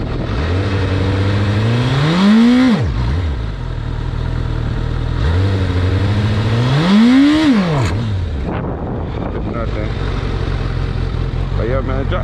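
A liter-class sport motorcycle's engine is revved hard twice while practising clutch-drop wheelies. Each rev climbs sharply and falls back, over a loud, close, steady engine drone.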